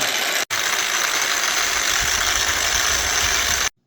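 A Bosch X-Lock angle grinder runs steadily at speed, a loud continuous whine with a low mechanical rumble, dropping out briefly near the start and then cutting off abruptly at the end.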